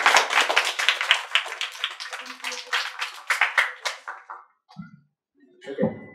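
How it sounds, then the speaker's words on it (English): A small group at a guest lecture on rare diseases claps for two participants, a brisk burst of close hand claps that thins out and stops, followed by brief quiet sounds. "let's give a big round of applause for Maryam and Anthony"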